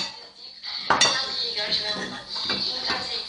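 Utensil clinks and scrapes against a bowl while thick, eggless crêpe batter is stirred, steady close clatter with brief louder knocks.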